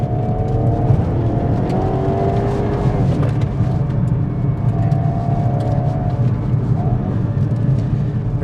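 A 2022 Hyundai Kona N with a DCT transmission accelerates hard, its engine note rising steadily in a loud, continuous drone heard from inside the car.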